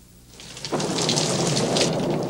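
Steady rain falls on a gray, rainy day while rolling thunder swells in and holds loud and continuous, without speech, in a 1975 coffee commercial.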